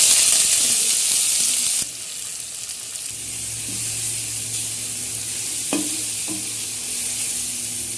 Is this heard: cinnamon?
yes